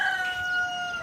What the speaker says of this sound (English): The chickens doing the chicken thing.